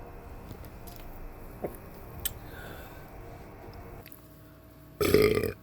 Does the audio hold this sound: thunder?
no